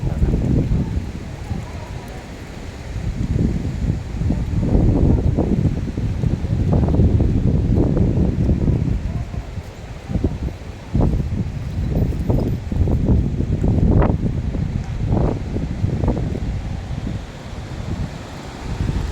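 Steady wind gusting and buffeting the microphone, with rumbling surges that rise and fall throughout.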